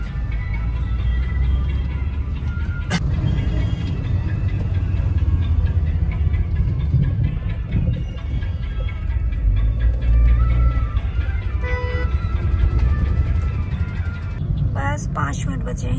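City road traffic rumbling steadily with passing vehicles and engine noise, while someone talks over it throughout.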